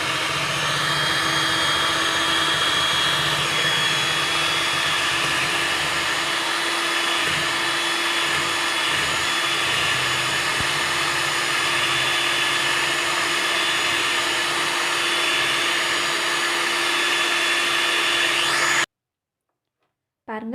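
An electric mixer whips cream for red velvet cake frosting, a loud, steady motor whine with a constant pitch that runs unbroken for most of the stretch before cutting off abruptly near the end.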